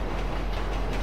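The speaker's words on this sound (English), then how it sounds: "We're following this train." A video-game train rumbles past in a steady low roar with faint rhythmic wheel clatter, heard at moderate distance with no talking.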